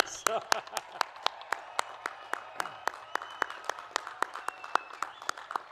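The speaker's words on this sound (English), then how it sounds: "how about one more loud round of applause for our most recent Bradley alums" Scattered claps from a commencement audience at a Bradley University graduate school ceremony, sparse and fairly distinct rather than a full roar, with a speaking voice heard at the start.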